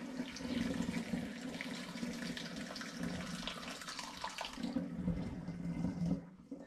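Wort and sugar solution for an all-grain sweet Rauchbier is poured through a grain sieve, a steady close rush of splashing liquid that tapers off at the end.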